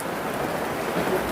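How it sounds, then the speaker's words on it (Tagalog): Rain falls steadily in a short burst, a dense close patter of drops on surfaces with no voices over it. "It's raining."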